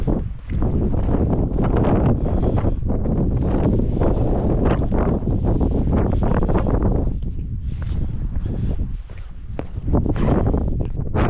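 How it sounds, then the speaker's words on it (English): Strong wind gusts of around 30 mph on a Peak District edge buffet the microphone in heavy, roaring bursts that rise and fall, nearly continuous with a brief lull. "it is hella windy. I've got like 30 miles an hour gust"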